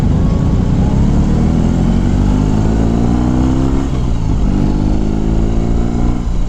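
A 2022 BMW R 18 B bagger motorcycle's boxer engine accelerating: a loud, close, continuous drone that rises in pitch through the gears, dips briefly at a shift, then climbs again, with wind noise and no talking.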